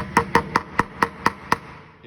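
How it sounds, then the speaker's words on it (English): Weight hammer tapping a wheel balancing weight onto a rim, seven evenly spaced sharp metallic strikes, close and clear with no talk. "basically you're gonna take your weight hammer,"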